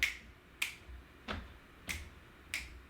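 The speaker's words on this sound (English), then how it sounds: "Snaps." Five crisp finger snaps spaced roughly evenly during a fall-prevention and balance exercise class for people with Parkinson's, close and distinct with quiet gaps between them and no talking.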